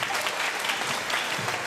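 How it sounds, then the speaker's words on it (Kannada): Audience applause at a Kannada community function's snoring competition, steady dense clapping from a crowd filling the whole moment without voices. "ಎಲ್ರಿಗೂ ಚಪ್ಪಾಳೆ ಕೊಟ್ಬಿಡೋಣ"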